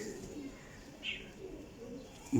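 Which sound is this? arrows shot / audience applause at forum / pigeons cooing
pigeons cooing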